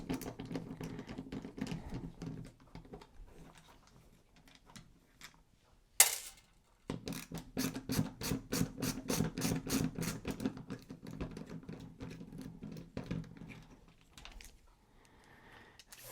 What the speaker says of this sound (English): So I just need to get some screws off.